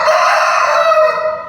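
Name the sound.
rooster crowing in a police lockup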